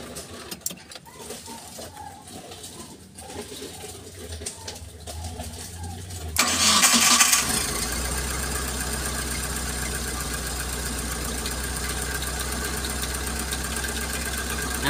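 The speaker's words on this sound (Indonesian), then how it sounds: "coba dihidupkan mesinnya" A Suzuki Carry T120SS engine, a car that runs weak and sputters, cranks and fires up, then settles into a steady, continuous idle after a brief loud burst at startup, with quieter rustling before it.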